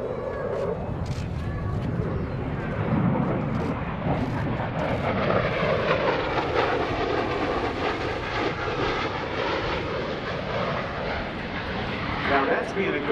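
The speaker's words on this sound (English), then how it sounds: "Watch how quiet the aircraft is as they reduce the throttles to idle at almost 500 miles per hour in the inverted whisper pass." At the 2017 NAS Oceana airshow, an F/A-18F Super Hornet flies an inverted whisper pass at idle throttle near 500 mph, giving a sustained jet roar and whoosh that swells and shifts as it passes, under an announcer's commentary.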